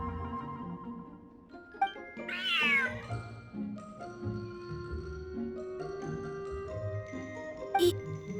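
A cat in the video game Genshin Impact meows several times over soft background music, with a caterwaul-like rising call near the middle and chimes tinkling lightly around it.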